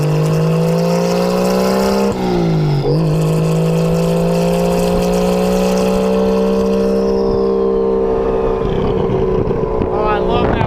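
A Honda S2000 fitted with a 2JZ engine revs up, dips, then holds a high note and winds down, loud and close with an open top and some wind noise.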